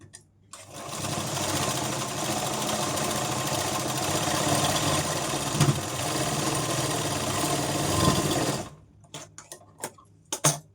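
A sewing machine stitching piping on a prince-cut blouse, a close, steady whirring rattle of rapid needle strokes that runs for about eight seconds before stopping, followed by a few light clicks.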